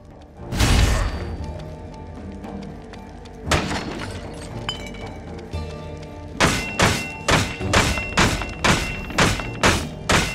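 Heavy weapon strikes land on training dummies in the PC action game Victor Vran: a few scattered thunks at first, then a quick run of evenly spaced, loud, close thuds.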